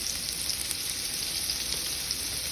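Chicken feet fry in a pan, cooked one at a time, with a steady, even sizzle and crackle close by throughout and no speech.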